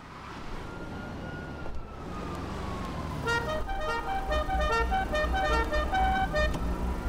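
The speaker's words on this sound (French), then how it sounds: "Un très beau klaxon, Tim" A car horn sounds in the GTA video game, a sharp tonal blare in repeated bursts that rises out of a steady engine drone and grows louder toward the end.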